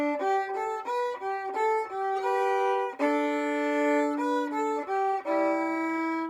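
A solo fiddle plays the closing phrase of a hoedown tune, bowing a series of clear sustained notes with short separations, played close and alone with no talking.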